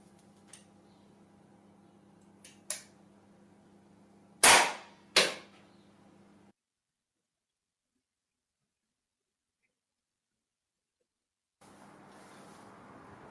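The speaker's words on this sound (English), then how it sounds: "Do you think I could shoot that red cap off that head with my air pistol?" An air pistol fires at a red cap, two sharp, close cracks in quick succession with a fainter click before, then silence and a steady hiss.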